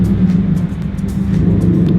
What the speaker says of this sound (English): That sounds like a Subaru coming in.